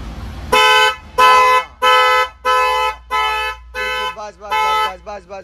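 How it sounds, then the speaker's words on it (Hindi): Aftermarket car horn with a tone like a Hyundai Creta's, sounding in about seven loud, bright blasts of roughly half a second each, ending in shorter, quicker toots. "सेम एज क्रेटा के जैसा बज रहा है।"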